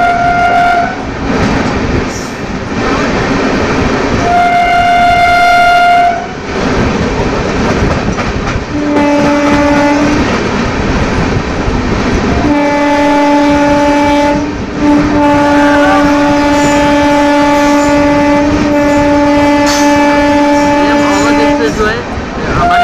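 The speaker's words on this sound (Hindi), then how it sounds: "हमारी ट्रेन बरौनी से बांद्रा को जा रही है और ओवरटेक कर रही है" The Avadh Express passes during an overtake on a forest line between Bihar and Uttar Pradesh, with loud, repeated horn blasts of varying length over continuous rumbling wheels and clattering carriages, the horn held longer toward the end.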